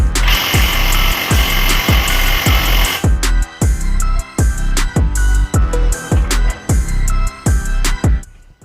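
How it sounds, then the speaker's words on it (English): A power tool loosening bolts on the upper yoke clamp of a 1980s Suzuki TS50X two-stroke dirt bike: a continuous whine, then a series of loud rhythmic impact rattles in rapid repeated bursts, close up. "Now we're just loosening all the bolts so we can get the upper yoke clamp off."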